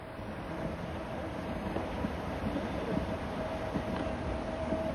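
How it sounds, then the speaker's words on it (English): A preserved vintage CEG rail car on the Fribourg railway hauls old coaches on an excursion train, giving a steady, even rumble of running gear with faint rhythmic clicks and no voices. "number 11, now renumbered 111, is still in service hauling some wonderfully preserved coaches on special excursion trains"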